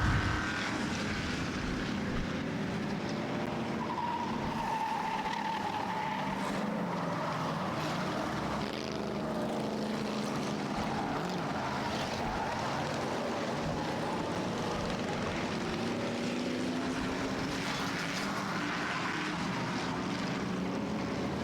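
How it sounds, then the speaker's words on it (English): V8 stock cars in an enduro race at Star Speedway, a continuous loud roar of many engines rising and falling as the pack circles the track, heard from trackside without a break. "Laps starting to tick away in today's V8 Enduro portion of the Halloween Howler."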